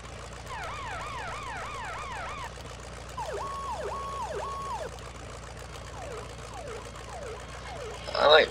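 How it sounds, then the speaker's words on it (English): A Federal Signal E2QB fire truck siren in the Farming Simulator 17 video game cycles through fast yelping sweeps, slower wails and sharp chirps at steady volume, ending with a brief louder burst. "Of course, the siren is a Federal Signal E2QB."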